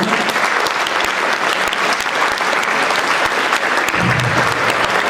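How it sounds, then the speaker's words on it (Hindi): Sustained audience applause at a Hindi comedy poetry gathering, a thick, steady wash of many hands clapping throughout, loud and continuous. "एक बार तालियां बजाकर"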